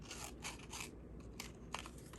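Scissors snipping through a paper pennant, cutting out its little points for a layered craft piece; a string of close, quiet crisp cuts at a steady rhythm with no talking.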